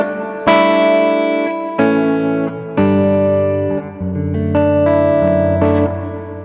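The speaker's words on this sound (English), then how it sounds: "the reverb is 50-50 with the dry sound of the guitar" Electric guitar played through an Alabs Cetus reverb pedal set to an even wet and dry mix: a series of loud, sustained chords struck one after another, each ringing out with a lush reverb tail that overlaps the next strum, with no talking.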